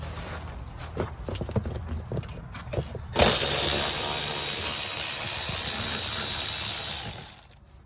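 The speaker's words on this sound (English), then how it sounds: "We're going to use my Milwaukee to make a quick work of this." A Milwaukee power tool removes bolts on a Hyundai Santa Fe during serpentine belt work: faint tapping and handling noises come first, then a loud, sustained whirring hiss from the tool that runs for several seconds before stopping.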